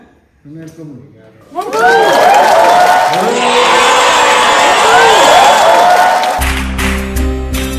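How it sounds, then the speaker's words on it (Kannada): A crowd cheers and claps at the end of a Jolo chip eating challenge, with loud whoops and shouting over sustained applause that fades into a rhythmic beat. "ಸಾಧನೆ ತೋರಿದ ನಿಮಗೆಲ್ಲ ಸಾವಿರ ಸಾವಿರ ಚಪ್ಪಾಳೆ."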